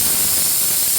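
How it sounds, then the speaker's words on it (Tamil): A pressure cooker cooking intestines for a curry vents steam in one loud, continuous, close hiss lasting about a second, with no voices. "4 விசில் வந்துருச்சு"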